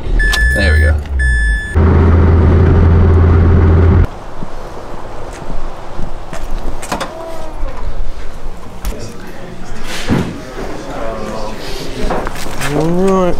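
Mazda Miata engine cranking and catching after a couple of tries, then idling and driving off with road and engine noise, a voice talking over it.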